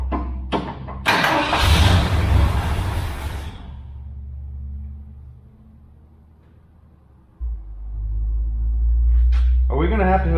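An abandoned Ford parked for 11 years cranks and catches, a loud rough burst of engine noise that fades to a low idle rumble before revving up again near the end, with brief talk at the start.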